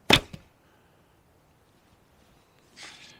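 A fibreglass Manchu bow is shot, giving one sharp, loud snap with a quick second knock just after, then near silence and a faint rustle at the end.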